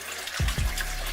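Tap water runs into a bowl or sieve as quinoa is rinsed, a steady close rushing stream with a brief splashy surge partway through.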